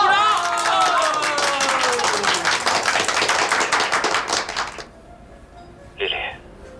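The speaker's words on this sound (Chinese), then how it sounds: "鼓掌！" Classmates applaud in a dense, steady burst of clapping that lasts about five seconds before stopping abruptly, with a voice heard at the start and briefly afterward.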